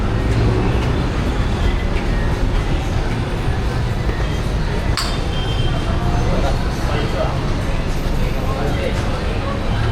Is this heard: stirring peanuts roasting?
no